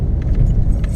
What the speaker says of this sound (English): We're purposely hitting potholes and stuff here to test it out